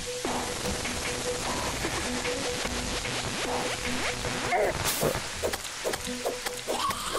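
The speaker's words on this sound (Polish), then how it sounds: "No bo skoro pada, jest noc" Rain falls at night in the video game Terraria as a constant, fairly loud patter. Clicks and short game effects pop up now and then over the top of it.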